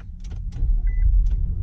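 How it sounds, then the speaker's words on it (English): A 2018 Infiniti QX60 luxury SUV engine cranks and catches, settling into a steady low rumble from inside the cabin, with a short chime partway through and no talking. "let's start the car"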